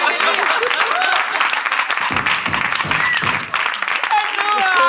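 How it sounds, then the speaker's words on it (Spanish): Studio audience applause on a Canal Sur television comedy show with a host, dense steady clapping and crowd noise filling the clip, with voices and laughter mixed in underneath. "Saca las palmas"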